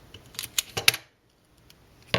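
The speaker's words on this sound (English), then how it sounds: "I like to kind of pull out a little length and take my scissors" Scissors snip small pieces of Scotch tape for a paper craft, giving a quick run of crisp close clicks and cuts, then a pause and one more snip, with no talking.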